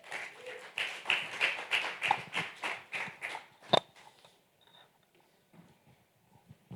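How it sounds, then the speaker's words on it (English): An audience at a conference panel session claps in a quick, fairly dense burst for about four seconds, then it stops and only faint scattered sounds remain in a quiet room. "let's give them another round of applause"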